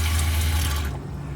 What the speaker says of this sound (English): We have running water with our new faucet head